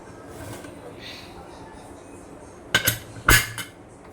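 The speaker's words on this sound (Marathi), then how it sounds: "मी आता कुकरचं झाकण लावते आणि तुम्हाला पूर्ण झाल्यानंतर दाखवते." Metal lid being fitted onto a pressure cooker in a home kitchen, two sharp metallic clanks near the end after quiet background, with faint speech.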